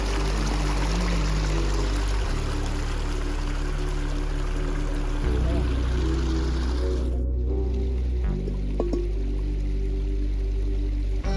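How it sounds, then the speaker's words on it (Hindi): Mountain spring water at a campsite in Rama Meadows, Astore Valley, flowing and splashing steadily up close, a continuous broad rush with a low hum underneath, heard alone without talk. "ये है वो चश्मा जहाँ से हम अपने लिए पानी भर के ले जाएंगे।"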